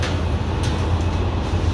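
An air-conditioned EMU local train on the Sealdah–Kalyani line runs on rails past Ichapur station, giving a steady, close, continuous rumble with a low droning hum and no voices.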